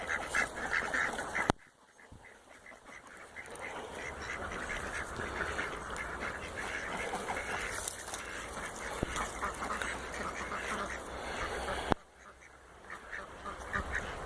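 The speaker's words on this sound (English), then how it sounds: "So the ducks are fertilizing the land." Free-range ducks quacking steadily in a busy flock, a continuous chorus of calls at moderate distance, with a brief quieter break near the start and end.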